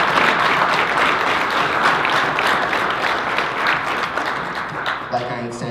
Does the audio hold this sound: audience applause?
yes